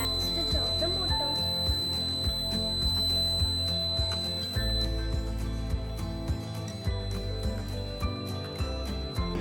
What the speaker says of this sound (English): the buzzer will make sound, which will indicate that the tank is full